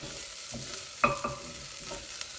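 Onions softening in a pan for a gin chutney, a low sizzle with a sharp metallic clink from a stirring spoon and a few quieter scrapes, nearby and without talk.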